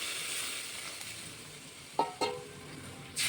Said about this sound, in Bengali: আমি একটু জলটা বেশি দিলাম।